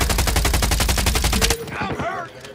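Rapid automatic gunfire in the Call of Duty Mobile shooter rattles loud and close for about a second and a half, then cuts off into quieter game effects and fading echoes.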